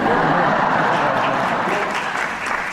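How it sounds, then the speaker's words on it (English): Broadway theatre audience applause at a Hugh Jackman stage show, a loud, continuous roar of clapping from a large crowd that holds steady throughout. "save the applause"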